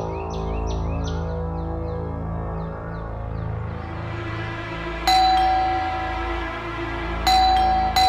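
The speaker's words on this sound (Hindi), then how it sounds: "घंटी बज रही है।" A doorbell rings twice inside a home in a television drama, two sharp electronic chimes that sound clearly over a swelling background music bed with chirping effects.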